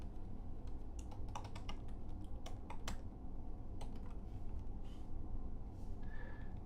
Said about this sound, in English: I'm going to type in the word fire statistics.